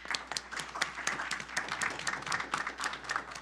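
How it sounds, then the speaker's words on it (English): A modest group at a city council meeting claps, sparse individual hand claps clearly separable in a quiet room, fairly faint and uneven for a few seconds. "If I could get an applause for the Public Works Department."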